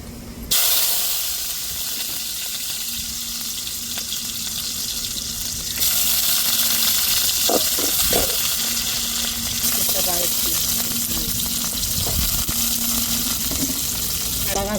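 Onion sizzles in hot oil with mustard seeds in a pan, a steady hissing fry that swells louder partway through, with occasional clinks and a voice talking over it.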